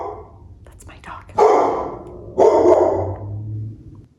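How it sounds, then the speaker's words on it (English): A dog barks twice in short bursts close by, with a low rumbling growl between, over faint background noise. "That's my dog."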